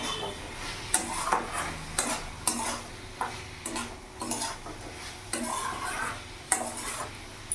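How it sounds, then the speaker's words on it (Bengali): Fried eggplant (begun bhuna) is stirred in a pan over a steady sizzle, with repeated sharp scrapes and clinks of a spatula against the metal at an uneven rhythm, close and fairly quiet, no talk. "ভালো করে এবার নাড়াচাড়া করে নেব।"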